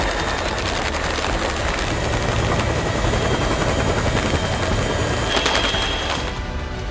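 Army helicopter flying over a flood rescue of people stranded on trees and rooftops, its loud steady rotor thrum and whine filling the scene continuously, close overhead with no voices.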